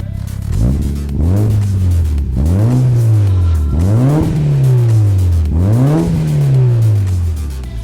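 A Mitsubishi Evo 9 engine with a Russ Fellows aftermarket exhaust revs up hard three times, each rise sweeping higher before dropping back to a rumbling idle, loud and close.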